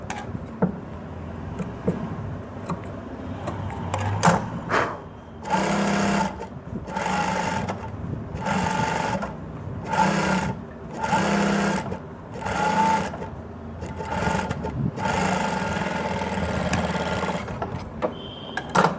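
Close sewing machine stitching a fabric strip for a puff sleeve, running in repeated short bursts of rapid mechanical whirring, with brief pauses between runs and a longer steady stretch near the end.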